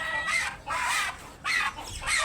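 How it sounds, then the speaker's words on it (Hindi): Ducks by a pool give three loud, close bursts of raspy calling in quick succession, each lasting about half a second with short gaps between. "अब्दुल्ला जो है वो बत्तखों को नहलाने लगा है"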